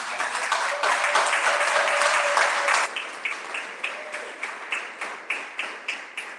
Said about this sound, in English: Can we have another great big round of applause?